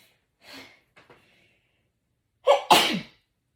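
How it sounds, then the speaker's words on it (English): A person with allergies takes a couple of soft, sharp breaths, pauses, then lets out one loud, explosive sneeze close by. "I gotta sneeze."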